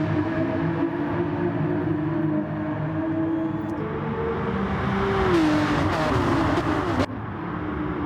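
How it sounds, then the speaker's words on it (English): A Porsche SuperCup race car in a racing video game spins its wheels at Circuit de Sainte-Croix, its engine droning loudly with a pitch that rises and falls as the revs change, and other cars are heard around it. "A lot of wheel spin here."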